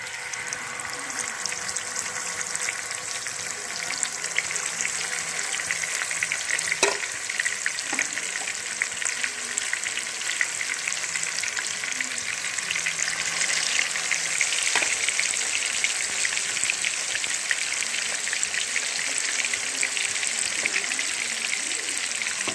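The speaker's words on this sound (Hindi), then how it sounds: "ऑयल हमारा मीडियम गरम हो चुका है, तो अब हम इसमें अपनी फ़िश डालेंगे" Fish pieces frying in medium-hot oil in a pan, a loud, steady crackling sizzle that runs throughout with a few light clinks of a utensil.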